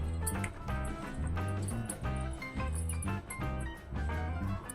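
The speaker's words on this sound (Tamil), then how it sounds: "மீன் கூட போட்டு இதெல்லாம் நல்லா மிக்ஸ் பண்ணலாம்." Fish being mixed by hand with salt and masala gives soft, wet squishing sounds. They repeat close by under background music.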